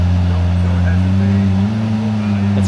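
Porsche 992 GT3 sports car engine droning steadily at close range, with a slight pitch step partway through that could be a gear change, under faint background voices.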